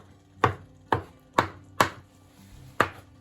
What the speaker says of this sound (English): since these are whole tomatoes, I'm just going to give them a rough chop.